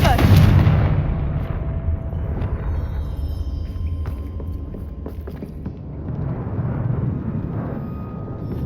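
A Confringo fire spell blast in the Hogwarts Legacy video game, a loud booming burst at the start that rolls into a rumbling, crackling decay, with smaller pops and a second swell of rumble later.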